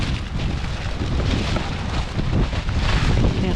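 Strong outdoor wind buffeting the microphone during a scrapping job, a loud continuous roaring rumble that stays steady throughout with no talking.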